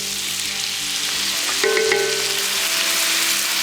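Soy sauce poured into a hot pan while making bourbon chicken, giving a steady, close frying sizzle that swells briefly as the liquid hits, with faint stirring underneath and no talking.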